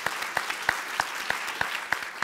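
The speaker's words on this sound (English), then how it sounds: "give them another round of applause" A small audience at a festival talk session claps in a sparse, evenly spaced rhythm, with a few distinct hand claps standing out over a soft background patter.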